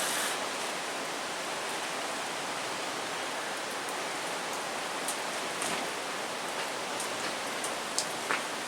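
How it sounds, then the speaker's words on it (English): Water trickling and dripping steadily out of the bottom of a potted gerbera daisy after a thorough watering, a continuous close, soft splattering wash with a few sharper drip accents and no talking. "Yeah, it's starting to run out the bottom here."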